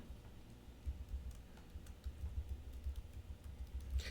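Quiet clicking of computer keyboard keys as an email address is typed, irregular light taps at close range over a low background hum, with no talking.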